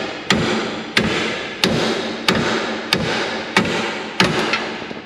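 Seven sharp, evenly spaced hammer blows on a metal part of a Chevrolet El Camino, each a loud clang with a short ringing decay, striking roughly every two-thirds of a second.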